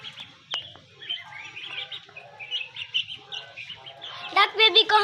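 Baby ducks and desi chicks on a small farm give soft, high peeping chirps, with a busier burst of calls near the end.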